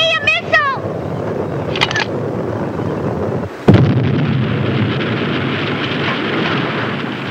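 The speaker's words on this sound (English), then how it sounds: "We've got to find out how they're blowing up those missiles." A cartoon missile blows up with a loud explosive burst partway through, followed by a sustained rumbling roar, with whooshing cartoon effects and voices before it.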